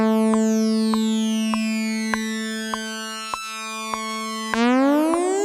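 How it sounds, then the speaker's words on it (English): A Mysterious Synth Lead patch with glide turned fully up, playing a bright, buzzy tone that slides smoothly between sustained notes, with a steady rhythmic click pulse and a final sweeping upward glide. "So I'm using this sound called Mysterious Synth Lead."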